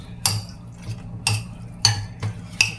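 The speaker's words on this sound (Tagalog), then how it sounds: "Mix ng paminta." Pepper being stirred into a meat marinade with garlic, a utensil clinking and scraping against the bowl in four or five sharp strokes with soft wet mixing between, close and fairly loud.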